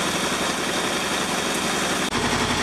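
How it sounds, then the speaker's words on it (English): A sailboat's engine runs to turn the alternator for charging power. It makes a constant, even droning hum with a brief dropout near the end and no voices. "now we're having to run the engine to spin the alternator to make power"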